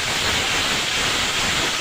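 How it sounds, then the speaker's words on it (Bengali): Green chicken in a coriander, mint and spinach paste sizzles in a pan as a spatula works it. The frying hiss is loud, close and steady throughout, with no speech. "একটু খুন্তি নাড়িয়ে দিই।"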